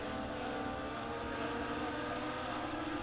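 Legend cars racing on the Springfield Raceway dirt track just after the green flag, their engines blending into a loud, steady roar that holds without a break.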